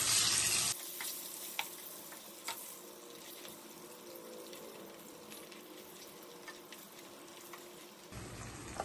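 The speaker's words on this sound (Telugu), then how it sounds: "గుడ్లు కొంచెం దోరగా వేగిన తర్వాత" Eggs fry in a pan with a steady, close sizzle and occasional small pops and crackles, fairly soft and continuous, no talk.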